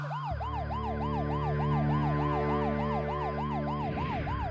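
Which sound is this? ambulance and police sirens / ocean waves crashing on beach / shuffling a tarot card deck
ambulance and police sirens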